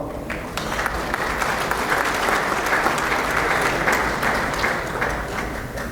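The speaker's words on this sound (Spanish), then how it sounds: "Aplausos para él, por favor." Sustained applause from a conference audience at a technical talk at Aquaexpo Guayaquil 2019, steady and dense clapping throughout at a moderate, even level with no speech over it.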